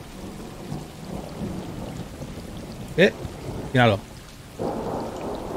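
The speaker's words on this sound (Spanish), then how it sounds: "Día lluvioso" Rain and thunder in the video game Stray rumble steadily in the background, with a brief spoken word and a couple of short cat meows cutting through before the low rumble swells again.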